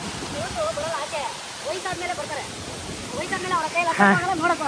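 Ermai Falls gives a steady broadband rush of falling water throughout, while several people talk over it nearby.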